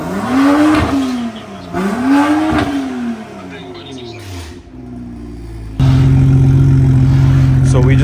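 A 2015 BMW 335i with a catless downpipe, muffler delete and exhaust flap welded open revs loudly in two rising-and-falling pulls, then drops to a steady, droning idle, close up with no talk.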